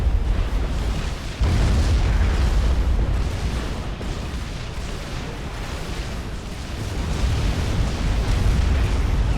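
T2 artillery and Salem ships pound a commander in a Supreme Commander battle, producing continuous heavy booms and rumbling explosions that swell and recede, distant-sounding but loud, without talk.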